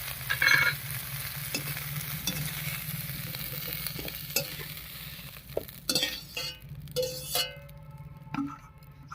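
Fried cauliflower is stirred and scraped out of a wok with a spatula, giving a steady oil sizzle with scattered clinks and scrapes of metal that grow sharper toward the end.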